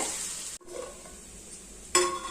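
Carrots and potatoes fry in a pan over a low flame, a steady soft sizzle with stirring scrapes and a brief gap before a louder burst of sizzle near the end, no voices.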